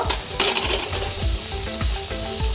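Fish fries with mashed boiled potato and spices in a pan, a loud steady sizzle broken by repeated scraping stirs of a spoon against the pan, with no voices.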